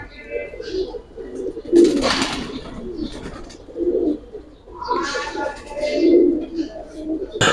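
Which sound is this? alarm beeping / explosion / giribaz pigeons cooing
giribaz pigeons cooing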